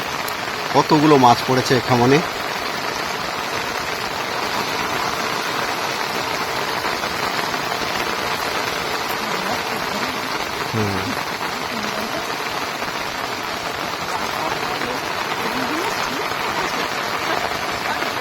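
Heavy rain pours steadily over an outdoor fishing spot in the Sundarbans, a dense hiss running the whole time, with a person speaking briefly near the start and a few faint voices later.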